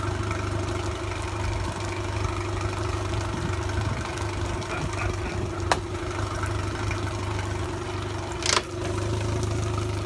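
The engine on a used pontoon boat, whose condition is in question, runs at a steady idle with a low, even drone and faint knocking, broken by a couple of brief sharp clicks.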